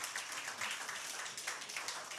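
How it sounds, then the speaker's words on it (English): A church congregation claps in praise, a faint, steady patter of many hands from a distance. "Give God a mighty clap of praise for that."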